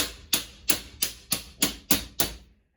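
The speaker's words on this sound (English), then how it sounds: "And you just use a hammer and bang it in." A hammer bangs an HVAC air duct connector into place: seven sharp, evenly spaced metallic strikes about a third of a second apart, close and fairly loud, each with a short ringing decay, and no voices.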